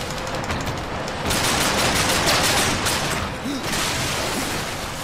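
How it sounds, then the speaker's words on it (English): Gunfire from a pistol in the video game Darksiders 2, a dense continuous rattle of shots lasting several seconds, loud and close with brief pauses and faint game sounds beneath. "I'm just gonna keep on shooting it with my pistol."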